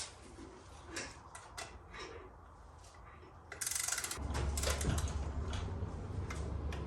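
Small mechanical ratcheting clicks from a torque wrench tightening the bolts on a Screaming Eagle air cleaner for a motorcycle, with a low steady hum building partway through and no talk.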